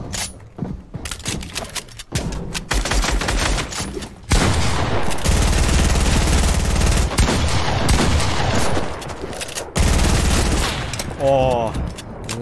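Dense Fortnite gunfire in a one-on-one match against a bot: rapid sustained bursts of automatic fire and shots, loud and continuous with brief pauses, under excited talk.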